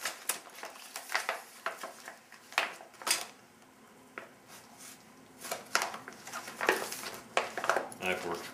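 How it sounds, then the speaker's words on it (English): A knife works open a plastic MRE pouch, giving scattered sharp ticks, scrapes and crinkles at close range, with brief pauses between cuts. "let's open it with a knife, shall we?"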